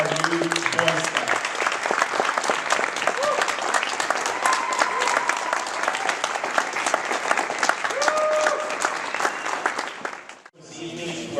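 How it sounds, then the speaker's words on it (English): Loud, sustained applause at a Cub Scout Blue & Gold banquet welcoming new Boy Scouts, a full room clapping continuously with voices and cheers mixed in, briefly dipping before a speaker's voice resumes. "Everybody give me a round of applause for our new Boy Scouts."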